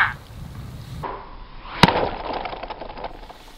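A 175 lb Hori-Zone Recon Rage-X crossbow shot striking its target outdoors, one sharp loud crack at close range after a quieter lead-in, then a brief rattling decay.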